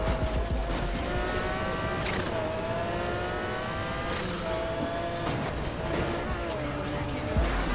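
A car in a video game drives and revs with a continuous whining engine tone that rises and falls in pitch, with occasional thuds and bumps, heard under faint background talk.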